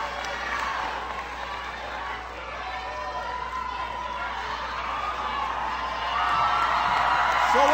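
A large rally crowd at a Pennsylvania health care event keeps up a steady roar of cheering and whooping, loud and continuous, swelling further near the end.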